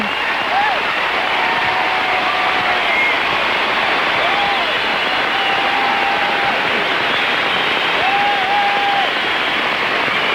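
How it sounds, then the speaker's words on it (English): Standing ovation from a large crowd at the 1997 U.S. Figure Skating Championships women's free skate, sustained dense applause and cheering filling the arena for the full stretch, with faint whistles rising over the steady roar. "And a standing ovation."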